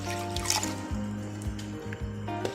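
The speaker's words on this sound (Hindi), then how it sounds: "अब एक देगची में मैं 3 कप पानी डालूंगी" Water poured into a cooking pot for Kashmiri pink tea, a close trickling and splashing stream that runs in several short pours across a couple of seconds, with no talking.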